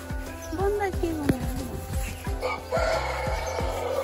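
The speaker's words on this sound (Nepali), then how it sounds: "हाम्रो घरको कुखुरा भाल्यो भने त पुरै गर्जनका साथ हुन्छ" A household rooster crows nearby on a Nepali farm, a clucking, rising call against rhythmic background thumps, with a person talking during it.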